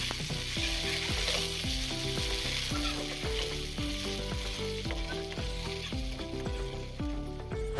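Ginger-garlic paste and green chillies fry with onions in a pan for an Assamese chicken curry, giving a continuous hissing sizzle under steady background music for the whole stretch.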